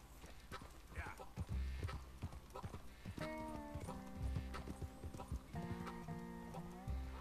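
Horse hooves clip-clop in a steady, close rhythm, with a whinny rising among the hoofbeats, all heard over a busy backdrop.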